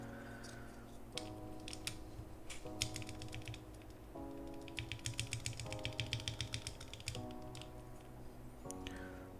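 Close, quiet typing on a mechanical keyboard with Gateron stabilizers gives irregular clicks and clacks, speeding into a brisk run of keystrokes midway over a steady background hum.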